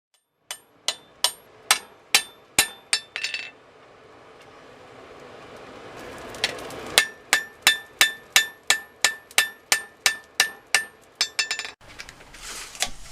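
Hammer blows on a steel sword blade being hand forged, reducing a thick bar, ringing out in two steady rhythmic series of sharp metallic strikes with quick rebounds, loud and close, no voices.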